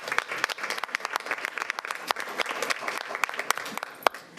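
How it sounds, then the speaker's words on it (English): An audience at a school board of education meeting giving a round of applause, dense steady clapping from many hands throughout, fairly close and even in loudness. "So let's give them another round of applause."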